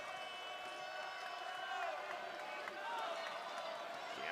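Home crowd at a Middle Tennessee vs Charlotte NCAA men's basketball game, a steady roar of cheering and applause filling the arena, with sneaker squeaks and a commentator's voice running over it throughout.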